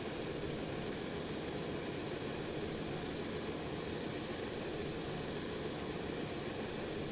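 A turboprop aircraft engine at full throttle in Stormworks roars as a steady, dense, loud whine and rush, unbroken and close for the whole stretch, with no talk.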